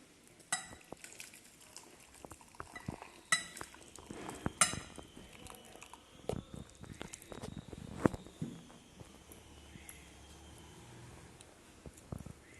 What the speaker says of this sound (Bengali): আমি একটু সবজিও তুলে দিই।